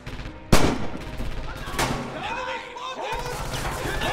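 A loud, close gunshot from Red Orchestra 2, a World War II shooter, bangs sharply near the start, and a second, softer shot follows just over a second later, with battle noise and a voice underneath.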